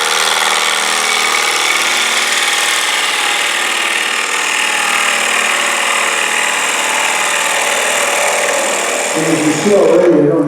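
A wood lathe turns a natural edge square bowl in a steady, loud whirring roar as a gouge cuts straight across the bottom, a continuous grinding rush with a rough scraping flutter near the end.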